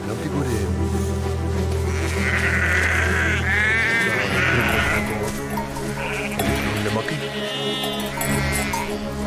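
Sheep bleat repeatedly in the World War I game Valiant Hearts: The Great War. Several wavering calls come over a steady bed of music, and a player talks through the sounds.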